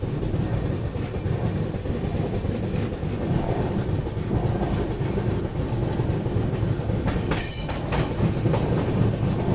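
An Indian Railways express hauled by a WAG 9HC electric locomotive from the KGM shed rolls along with a loud, continuous rumble and a rhythmic clickety-clack of wheels over the rail joints. The sound is heard from on board.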